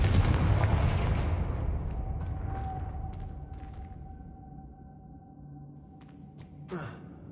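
Fire spells in a Hogwarts wizarding game: a loud fiery blast that rumbles and fades away, a faint sustained tone, then a sharp whooshing burst near the end.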